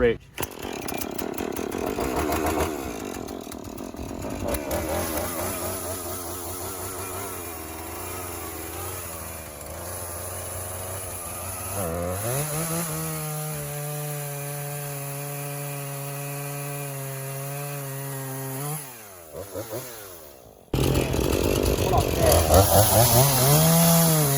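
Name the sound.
chainsaw cutting a fallen tree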